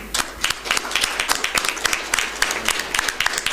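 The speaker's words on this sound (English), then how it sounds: "One more round of applause for all the award winners" Dense, continuous audience applause from many hands fills a hall at the WCIT 2019 technology event in Yerevan, honoring award winners, with a low background rumble and no talk over it.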